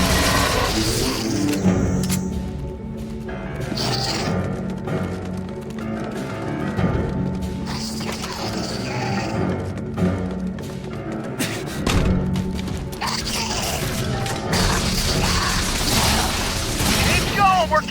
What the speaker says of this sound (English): Charges set. Munitions deployed. Arms away. Detonating.